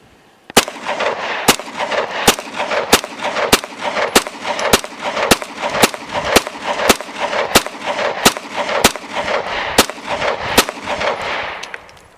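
Rapid string of about fifteen sharp gunshots from a Glock 43x pistol firing 115 grain rounds, evenly spaced roughly every half second and loud and close, with no talk.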